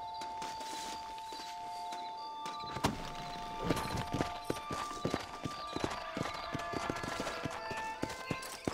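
Horse hooves clip-clop in an irregular walking rhythm in Red Dead Redemption, growing busier after a few seconds, over a steady tonal music bed.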